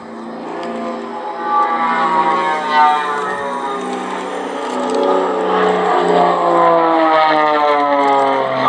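A propeller aircraft performs aerobatic rolls at the Duxford air show, its engine droning loud and steady with a pitch that sweeps up and down as it maneuvers overhead, continuous throughout.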